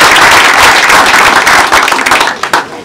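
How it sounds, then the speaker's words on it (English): Loud, close audience applause rings out at a community centre and pool opening event in Aldergrove, a thick burst of clapping that thins and fades over the final moments. "They deserve a huge round of applause."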